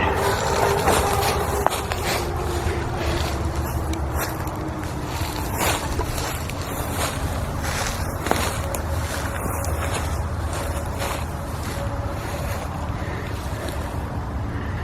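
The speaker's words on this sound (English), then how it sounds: "While we listen to the motocross races." Distant motocross motorcycles race far off, their engines merging into a steady, faint drone that slowly rises and falls in pitch beneath broad outdoor wind-like noise, with no talking.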